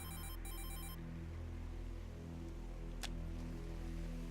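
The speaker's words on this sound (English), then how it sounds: "Oh, phone call?" A telephone ring sounds in a game: a bright electronic tone for about a second over a steady low hum, followed by the hum alone and a single sharp click.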